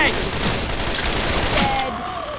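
Rapid bursts of video-game gunfire hammer at the Tank in Left 4 Dead 2 as a continuous dense volley, loud and steady throughout, with voices mixed in.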